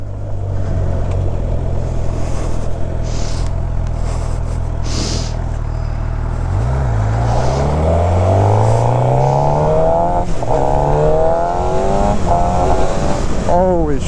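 A new low-mileage motorcycle accelerates hard through several gears, its engine rising in pitch with each pull and dropping at shifts, loud and close under wind rush, with a rider talking over it.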